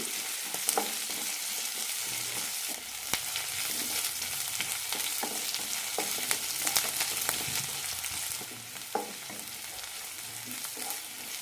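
Onions frying in a pan for a pappad curry, with a continuous sizzle and occasional spoon scrapes and taps as they are stirred.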